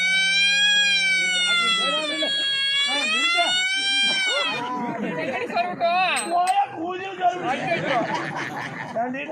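A voice wails a rising and falling siren tone in imitation of an ambulance, then breaks into overlapping chatter and laughter.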